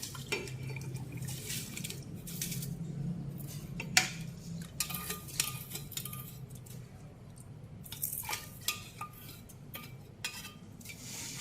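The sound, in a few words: stirring coarse salt into water in a pot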